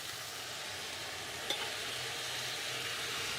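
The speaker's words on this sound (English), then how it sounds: "now I'm just going to add the rest of this teriyaki sauce so it can kind of caramelize off" Tempeh frying in a pan with teriyaki sauce, a steady close hiss of sizzling with a single faint stir or tap partway through.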